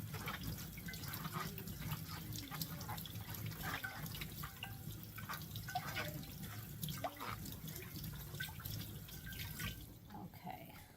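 Tap water runs steadily into a sink while food is rinsed beneath it, a continuous splashing wash with small drips and clatters near the basin, no talking.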